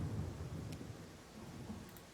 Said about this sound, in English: And the storm is not good.